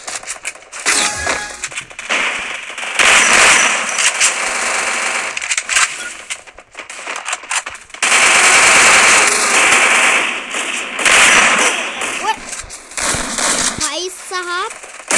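Rapid bursts of gunfire from the video game Free Fire Max rattle in repeated loud volleys, with a voice talking excitedly over and between them.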